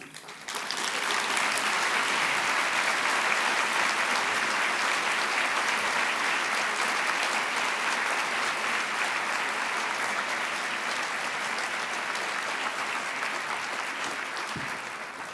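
Sustained, dense audience applause at a legal aid organization's annual meeting honoring a Chief Justice, loud and steady for about fifteen seconds before tapering slightly at the end.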